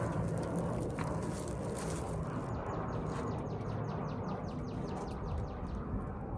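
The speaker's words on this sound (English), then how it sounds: "Don't those birds sound nice?" Birds chirping outdoors in a garden where cold-season crops are being planted: a run of quick, repeated tweets starts partway through and rises over a steady, loud wash of outdoor background noise.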